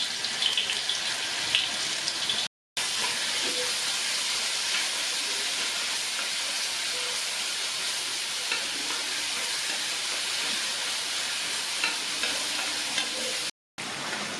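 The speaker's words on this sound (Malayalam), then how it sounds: "നമ്മൾ മിക്സിയിൽ അരച്ച പച്ചക്കുരുമുളകും ഇഞ്ചിയും വെളുത്തുള്ളിയും കൂടെ എണ്ണയിലേക്ക് ഇട്ട് കൊടുത്ത് ചെറുതായിട്ടൊന്ന് വഴറ്റാം" Ground green peppercorn, ginger and garlic sautéing in hot oil for a Kerala duck roast: a steady, close sizzle and crackle with faint stirring scrapes, continuous apart from two brief cuts to silence.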